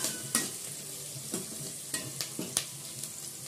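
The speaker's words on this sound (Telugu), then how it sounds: "బాగా వేగిన తర్వాత టమాటా వేసుకుంటున్నాం" Tomatoes hit a pan of frying cumin and lentils, a steady sizzle broken by several sharp scraping stirs spaced through the stretch, close and moderately loud with no talking.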